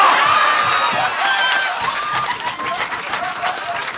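A studio audience breaks into applause and cheering for a vote, loud and dense at first and then tapering slightly, with scattered whoops and no clear speech.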